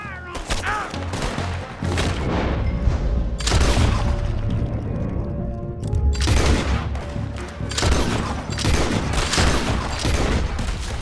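Gunfire fills a Red Dead Redemption 2 shootout: loud volleys of rifle and pistol shots with booming reports crowding together in waves, near and heavy, with faint game voices mixed in.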